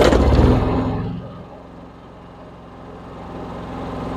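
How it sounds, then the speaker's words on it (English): A home generator fires up with a loud burst that settles within about a second into a steady, lower mechanical hum that runs on evenly. "I always say, start your generator first."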